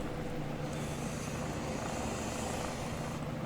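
A Mil Mi-8 Hop-C/Hop-E helicopter in the game Aeronautica, its engine and rotor making a steady, even drone that holds constant from start to finish, with no one talking.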